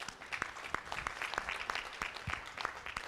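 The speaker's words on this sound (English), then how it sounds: "So please give all the women a round of applause." Applause from the audience at an oil and gas industry conference session, a short burst of scattered, fairly distinct hand claps heard at moderate distance.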